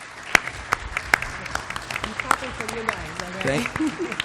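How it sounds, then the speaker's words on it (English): A conference audience applauds its panelists after a talk on streaming, with scattered claps building into broader applause while people talk over it. "can we get a round of applause for our panelists?"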